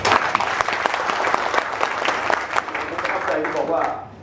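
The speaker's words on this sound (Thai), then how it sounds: "ปรบมือท่านหน่อยครับ" Audience applause for the mayor during a municipal study visit at Bang Kadi Subdistrict Municipality, a dense crowd clapping steadily at close range for about four seconds, with a voice talking underneath and the clapping thinning toward the end.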